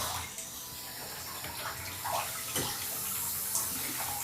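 Cold water running from a bathtub tub spout with a faulty diverter, a steady close splashing stream with small gurgles and a few sharper splashes, no talk.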